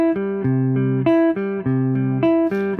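A guitar spread triad picked one note at a time, bottom, middle, top and back to middle, in an even repeating pattern of clear, close single notes with no talk.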